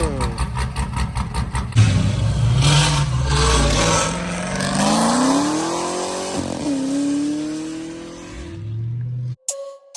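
A Chevrolet Camaro ZL1 with an aggressive cam drives off with a choppy, lumpy idle, then rising and falling engine revs as it accelerates. The engine is loud and close, with voices talking over it before it cuts off abruptly.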